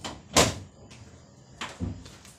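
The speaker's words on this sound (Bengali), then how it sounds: "আলমারি খুলছি" A household wardrobe cupboard being opened, with a sharp wooden knock or latch click followed by softer thumps and creaks of the door close by, without talk.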